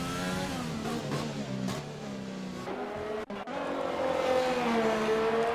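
Race car engine on a hot lap around a Vietnam Grand Prix circuit in a racing game: a loud, high-pitched engine wailing through rising and falling revs, with quick gear changes, a sharp cut partway through, then a long climbing scream.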